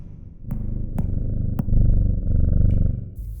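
A close, low rumbling cat purr, steady and rhythmic, broken by a few sharp clicks.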